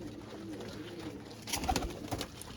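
Pet pigeons in a loft coo softly, with low throaty calls and some fluttering rustles rising toward the end over a faint steady background hum.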